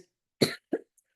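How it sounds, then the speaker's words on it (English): Two short, close coughs from one person, a stronger cough and then a smaller one a moment later, in an otherwise quiet room. "I have a little cough today"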